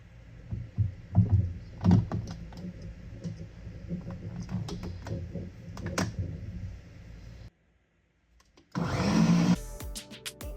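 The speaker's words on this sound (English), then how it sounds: "I'm now going to go ahead and blend." A blender purees charred peppers and tomatoes in loud grinding bursts, a short pause of silence, then another forceful pulse of whirring.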